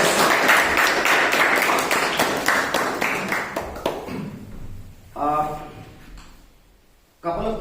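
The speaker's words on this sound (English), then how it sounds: "Please once again bring a round of applause for the guests." An audience at a club meeting applauds for the guests with dense clapping that fades away over several seconds, and a person then speaks.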